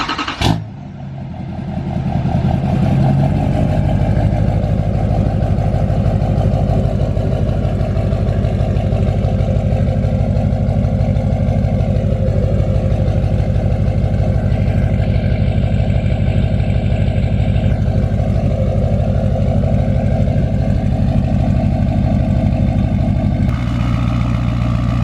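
An LBZ Duramax diesel truck fitted with Exergy injectors cranks over and fires up, then settles into a loud, steady close-up idle with a deep rumbling clatter that holds for the rest of the stretch.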